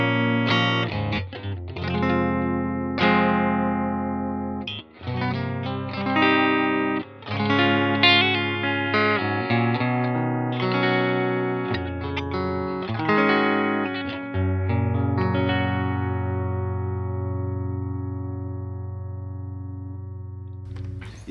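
A Westcreek TT-20 electric guitar played with a clean tone, picking out ringing single notes and chords in a flowing melodic phrase that lets its last chord sustain and fade.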